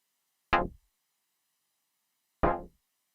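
A synthesizer noise oscillator triggered as a seven-note chord, in a dub techno sound design setup, gives two short, bright bursts of noise that decay quickly, separated by about two seconds of silence.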